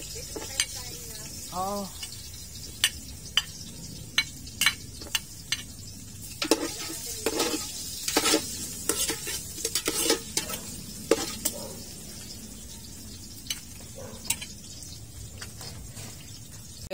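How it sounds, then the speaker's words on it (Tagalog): Ginger dropped into hot cooking oil sizzles and fries steadily while a utensil stirs it, with sharp scraping clicks through the middle; a voice speaks briefly near the start. "So, mainit na yung mantika. Lagyan na natin itong ginger."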